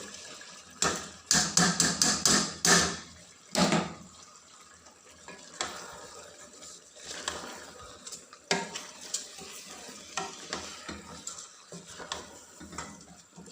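Rice is tipped into a pot and stirred for chicken kabsa, giving a burst of loud scraping and rattling clatter at first, then softer intermittent stirring scrapes with light clinks.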